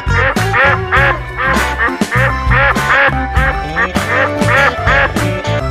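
A duck quacks repeatedly in bursts, loud and close, the calls grouped into rhythmic runs with brief gaps between them.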